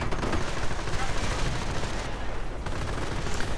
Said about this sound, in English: a heavy rocket barrage